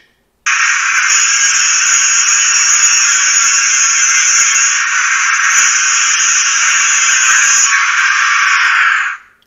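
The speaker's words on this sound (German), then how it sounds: "ein Winkelschleifergeräusch" A harsh, steady high-pitched angle grinder sound effect from a Märklin 49571 H0 model steam crane, running continuously for about nine seconds before stopping abruptly; small and electronic in character.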